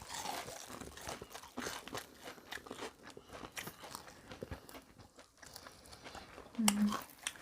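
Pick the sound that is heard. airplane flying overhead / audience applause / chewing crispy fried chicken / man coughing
chewing crispy fried chicken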